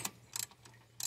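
Ratchet breaking loose the lower water pump bolts on an F350 Super Duty truck, a few quick clicking bursts with short pauses between them, close and moderately loud.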